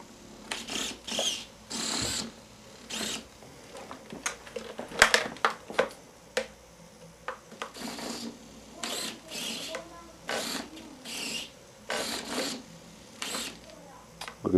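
Servo fitted with a ServoCity servo stretcher, moving in repeated short whirring bursts at an irregular rhythm, close to the microphone.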